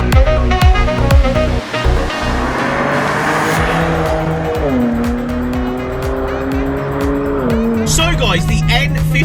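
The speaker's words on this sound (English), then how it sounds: "N54 twin turbo engined 3-litre displacement 335, an absolute wonder of a machine." BMW 335i with the N54 twin-turbo 3-litre engine driving, a loud sustained engine drone that rises and shifts in pitch through gear changes, with some tire noise mixed in.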